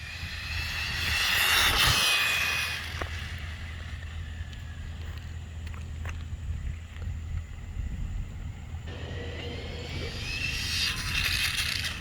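A Xinlehong Q901 upgraded 1/16 scale RC short-course truck at a top-speed run, its electric motor whining loudly as it accelerates, with the whine fading into a steady roar and then rising again near the end.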